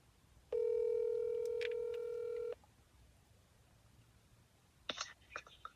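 A phone call is dialed on speakerphone, with a steady electronic tone lasting about two seconds, then a few faint clicks and taps near the end over quiet room background.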